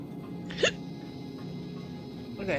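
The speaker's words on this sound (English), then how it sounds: "Okay, hiccups." Two hiccups from a person, a sharp close one early and a softer one near the end, over a quiet room-tone background.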